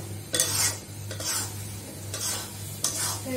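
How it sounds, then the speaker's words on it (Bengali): A spoon stirs an egg mixture in a cooking pot, giving repeated scraping strokes against the metal over a low steady hum, with no talking. "এটাকে ভালোভাবে এভাবে নাড়াচাড়া করে নিই যাতে ডিমটা দলা পেটে না যায় একসাথে"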